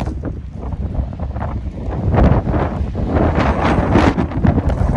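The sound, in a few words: strong wind during snow squall in Edmonton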